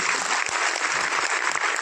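An audience at a musical program claps hard and continuously, a dense, loud burst of applause that fills the hall from start to end.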